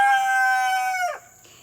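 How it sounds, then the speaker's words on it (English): A rooster crows once at close range, a loud, drawn-out call with strong harmonics that breaks off sharply, followed by a softer trailing cluck and quiet farmyard background. "please pardon the chickens"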